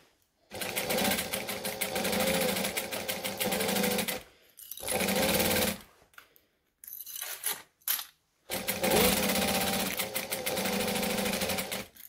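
A sewing machine stitches binding onto a bag in steady bursts, with pauses between runs as the seam is worked back to its start, the motor whirring close and loud.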